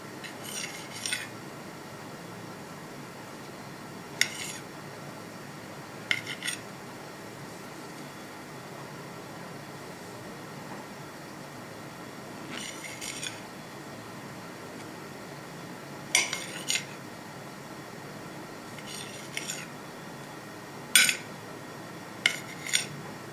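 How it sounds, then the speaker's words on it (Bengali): A knife trims the crust sides off slices of bread in a home kitchen, giving scattered, faint scraping and tapping strokes in short clusters over a soft steady hum, with long quiet gaps between cuts. "এই যে এইভাবে আমি পাউরুটিগুলো সব কেটে নেব সাইড।"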